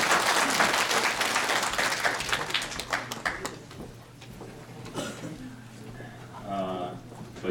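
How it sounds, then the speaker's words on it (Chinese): A crowd at a graduation ceremony applauds a Uyghur guest speaker with a burst of dense clapping that gradually thins out. A voice is faintly audible near the end as the applause fades. "那么有热烈的掌声欢迎这个维族的朋友"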